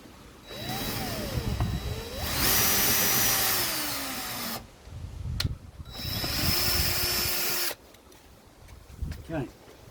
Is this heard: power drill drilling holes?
yes